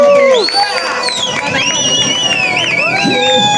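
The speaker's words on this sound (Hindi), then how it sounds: "बार जोरदार तालियां होनी चाहिए इनके लिए" Auction event for team captains brings a loud, lively crowd cheering and shouting, with whoops and raised voices layered over steady hubbub throughout.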